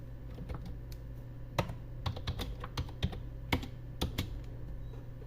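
Typing on a computer keyboard to enter text in Microsoft Word, with quick, irregular key clicks heard up close and steady, with no voices.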